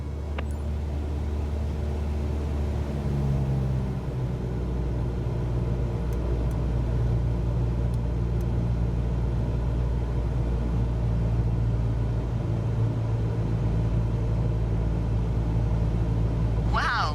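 Single-engine aircraft engine droning steadily in Microsoft Flight Simulator 2020 as power is added to hold about 60 knots, a constant low rumble under a spoken instructor voice.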